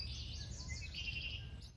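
Sparrows near a campground dock on an island chirp in quick high twittering bursts, faint and somewhat distant over a low background rumble, with no talk.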